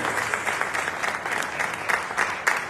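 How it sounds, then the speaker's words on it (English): An audience applauds a guest speaker at a memorial lecture, with steady clapping from many hands that stays fairly even and close throughout. "I think I need you to give the guest speaker and Sister Melva a round of applause"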